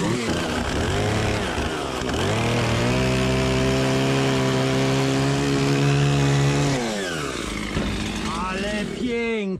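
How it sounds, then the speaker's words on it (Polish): A chainsaw revs up and bites into wood, its engine whine holding steady under load before easing off, loud and close. "Póki piła ciepła, to jeszcze zrównam ten koniec."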